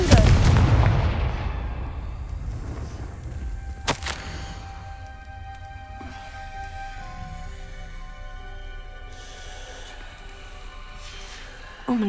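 A Confringo blasting spell goes off in Hogwarts Legacy, a loud explosive burst at the start that decays into a rumbling tail, followed later by a sharp crack amid game ambience.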